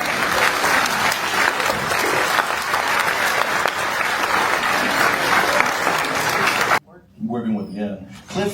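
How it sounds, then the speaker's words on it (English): Thunderous audience applause at a fan convention tribute, a loud continuous roar of clapping for several seconds that cuts off abruptly, followed by someone speaking. "Je pense que déjà il mérite un tonnerre d'applaudissements."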